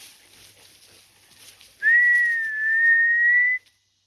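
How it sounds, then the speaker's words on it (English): A person whistles one loud, sustained, slightly wavering note lasting about two seconds to call a husky cross dog, following quiet outdoor background. "Normally I don't whistle."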